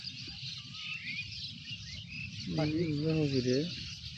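A large flock of mynas chatters in the evening beside freshly planted rice paddies, a dense, continuous high chirping heard at a distance, with a voice speaking briefly over it.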